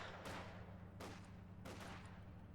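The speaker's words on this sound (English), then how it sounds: "Well, that was a big explosion." Heavy explosion sounds from a Company of Heroes 2 battle, with three broad blasts about three-quarters of a second apart over a constant low rumble of combat, all fairly distant and muffled.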